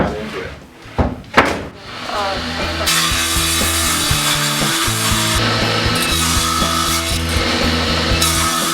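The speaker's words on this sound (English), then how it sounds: "I'm going to cut 4 braces" Pine strips are cut into braces for a melamine table in a workshop, with a few knocks and handling noises first, then a loud, close, continuous sawing that runs steadily to the end.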